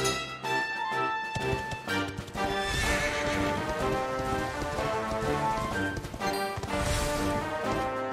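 A horse in the video game Dragon Quest XI whinnies loudly several times over clip-clopping hooves, with a sound like rain pattering throughout and no talking.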